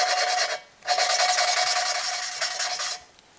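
An engine valve from a Cummins 5.9L 6BT 12-valve diesel is hand-lapped into its seat with compound, a close gritty back-and-forth rasping that runs in two stretches separated by a brief pause, with no voices.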